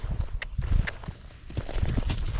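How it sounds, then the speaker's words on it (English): A Tennessee Walking Horse doing its flat walk, hooves clip-clopping in a steady repeating rhythm close by, with some faint background noise. "These horses are bred to do the flat walk and the running walk."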